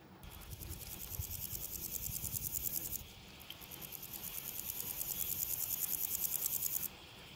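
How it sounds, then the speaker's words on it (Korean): Sapsal grasshopper calling in a recording: a steady, rapid, buzzy chirping pulse that repeats in two long bursts separated by a brief pause, fairly faint and alone. "이 친구가 삽살인 이유가 이게 울음소리가 있어요."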